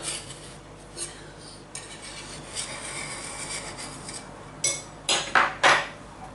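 A freshly baked Victoria sponge cake is turned out of its tin onto a wire rack. Quiet rubbing and scraping lead into a few sharp knocks and clunks of metal near the end.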